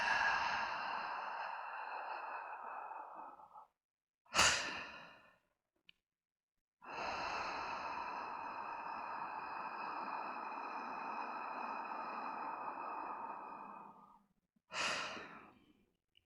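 A person breathes out slowly during a relaxation breathing exercise, giving two long, steady exhales separated by short sharp intakes of breath, close and quiet with no talking.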